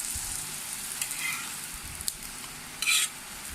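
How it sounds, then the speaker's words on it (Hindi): A lachha paratha fries in plenty of oil in a pan, giving a soft, steady background sizzle with a few brief louder crackles and spits. "आप इसको कम ऑयल में भी पका सकते हैं, लेकिन जो कलर वो ज़्यादा ऑयल से आता है"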